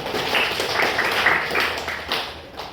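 A classroom of students applauds together at the end of a project-based lesson, a steady wash of clapping that holds for a few seconds before tapering off.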